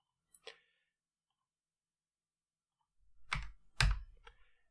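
A computer mouse clicks while working in Civil 3D software, with one quiet click, then a pause, then a quick cluster of three or four crisp, close clicks.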